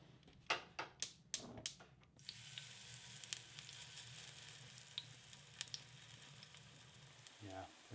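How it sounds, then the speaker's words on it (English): Caribou liver sizzles as it fries in lard in a pan in a cabin kitchen, a steady close hiss after several sharp knocks at the start, with a brief low thud near the end. "We're gonna fry these up in some lard"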